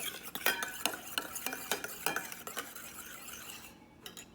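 Hot milk is stirred into a yogurt culture with a spoon that taps and clinks against the container in a quick, uneven rhythm, close by, then eases into quieter swirling near the end.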